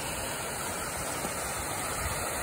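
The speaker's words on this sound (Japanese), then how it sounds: "すごい滝が" A powerful waterfall beside a mountain hiking trail gives off a steady, dense rushing roar, loud and unbroken throughout with no voices.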